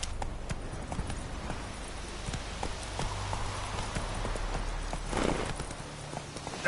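Roach, the horse in the video game The Witcher 3, walking with a steady rhythmic clip-clop of hooves, moderately close under a low ambient bed and a brief noisy burst near the end.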